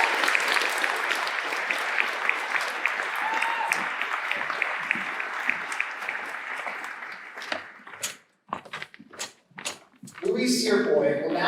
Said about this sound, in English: Let's give a huge round of applause to